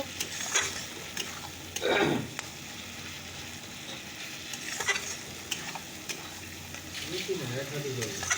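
Spice paste frying in a home kitchen pan, a low sizzle under intermittent stirring scrapes and clinks, with a couple of louder scrapes and some background voices.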